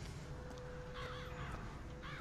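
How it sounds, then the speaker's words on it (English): Crows caw in the video game Bioshock Infinite, about three harsh calls spaced through a faint ambient game backdrop with a steady tonal hum. "Crows."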